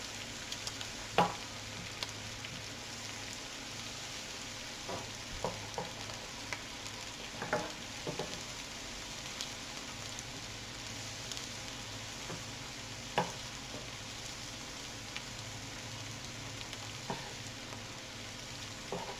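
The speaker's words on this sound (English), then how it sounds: "I'm adding 4 tablespoons of butter to it, and we're going to let that melt up here" Four tablespoons of butter melt in a frying pan over medium-high heat for Cajun hash browns, giving a faint, steady sizzle broken by scattered small pops and clicks.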